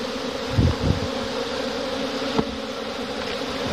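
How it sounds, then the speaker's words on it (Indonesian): Dense buzzing from a swarm of honey bees, stirred up by smoke, hums continuously up close, with a few soft bumps and thuds underneath. "Om Iman, dia nggak takut walaupun ini banyak lebah nih yang berterbangan"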